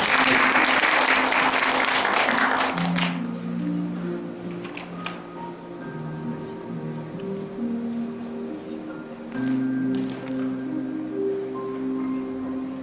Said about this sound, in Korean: 네, 박수 한번 주시기 바랍니다.